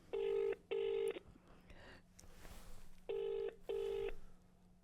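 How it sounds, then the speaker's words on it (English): Two pairs of ringing tones from a telephone call to a hotel, each pair a couple of quick beeps, separated by a quiet gap with faint background noise; no speech. "It's ringing."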